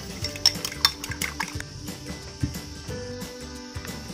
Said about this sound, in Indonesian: Kocok telurnya.